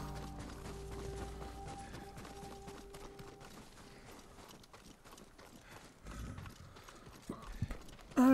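Rhythmic clip-clop of horse hooves at a quick pace in the video game Ghost of Tsushima, steady and fairly close, with music and ambient game sounds underneath and a sharp thump at the end.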